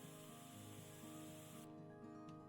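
A game sprayer hisses steadily while coating a tank part in Tank Mechanic Simulator, a continuous even spray under a constant tonal background hum that cuts partway through.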